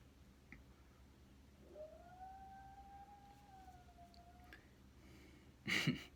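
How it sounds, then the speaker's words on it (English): A dog howls in the background with a long, wavering tone that rises and slowly falls over several seconds, faint against a low hum, followed by a brief louder burst near the end. "Dog howling in the background."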